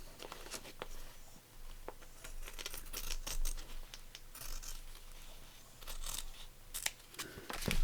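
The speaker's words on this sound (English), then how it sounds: "Let's just trim off that excess there so we know where we're stitching." Scissors trimming excess fabric while stitching a fabric journal page, with a series of short, crisp snips and rustles of cloth at close range, no voices.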